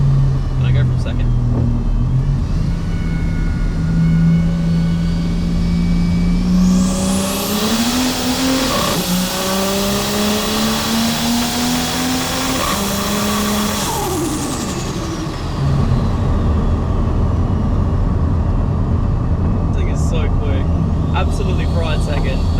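A 530hp turbocharged Ford Falcon XR6 accelerates hard through the gears, its loud engine note climbing in pitch, dropping at each shift and climbing again. A sharp burst of turbo hiss comes mid-run, and voices talk over it.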